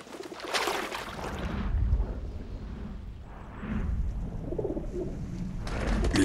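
Gregarious feral pigeons cooing in a group, soft low coos rising and falling over several seconds against a steady outdoor background.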